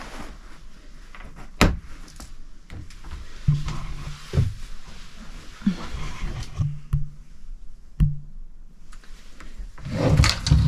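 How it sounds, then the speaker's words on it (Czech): Folding doors in the bedroom of an Adria Matrix camper are pulled closed, giving a series of plastic clacks, sliding rattles and sharp knocks at close range. "v té ložnici jsou schrnovací dveře, to vám taky ještě ukážu"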